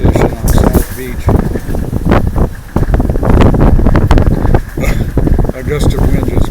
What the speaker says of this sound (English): A gust of wind just blew through and blew a couple items away